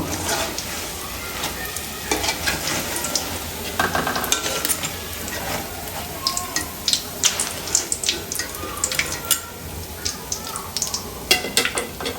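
Carrot pakoras sizzle steadily in hot oil, with a constant crackling bed broken by sharper pops and occasional stirring clicks. The sound is close and even throughout.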